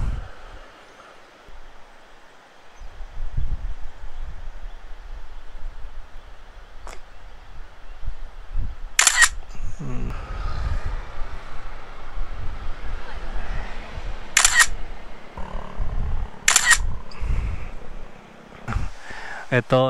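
A camera shutter clicks sharply about three times, close to the mic, beside the Agos river. Between the clicks sit soft wind and low outdoor rumbles.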